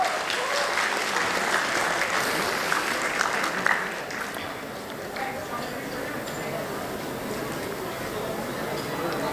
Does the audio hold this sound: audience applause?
yes